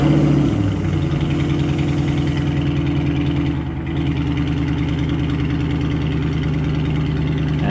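A 6.4L Hemi V8 with a completely stock exhaust idles steadily after start-up, a loud, even low rumble with a brief dip in level partway through.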